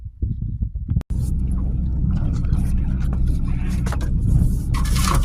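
A vehicle rumbles and jolts along a rough dirt road through a gold mine claim, the engine droning steadily beneath scraping and knocking from the track, with a brief pause near the start and a voice talking over it.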